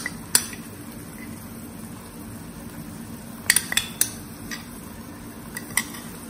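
Heaping spoons of Kashmiri chili paste going into a pan for Schezwan fried rice: a few sharp metal clinks of spoon on pan, spaced apart over a low background hum.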